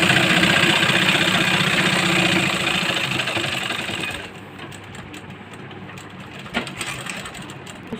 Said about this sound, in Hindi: दूसरी बाजू भी हम इसी तरह से सिल लेते हैं।